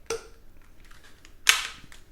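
An air rifle with a straight barrel fires 3D Précision Innovation diabolo pellets, giving two sharp, close cracks about a second and a half apart. The second crack is louder, and the background is quiet.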